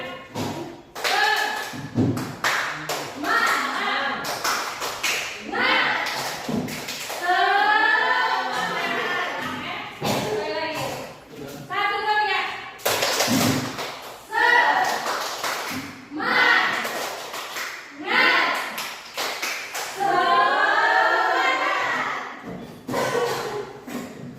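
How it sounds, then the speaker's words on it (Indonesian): A classroom group claps in rhythmic unison as a spirit-clap routine, a loud, dense pattern of claps in bursts alternating with children's voices and talk. "Tepuk semangat."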